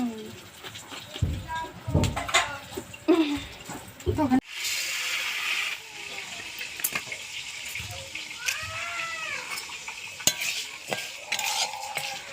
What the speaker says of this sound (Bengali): এখানে আমি এখন মুগ ডালটা ভেজে নিচ্ছি